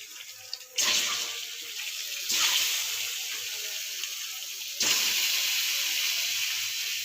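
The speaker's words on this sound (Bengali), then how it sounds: "ডিমটাকে ভেজে নিচ্ছি।" Eggs seasoned with salt, turmeric and chilli powder hit hot oil in a pan, sending up three sudden bursts of hissing sizzle that settle into a steady, softer crackle.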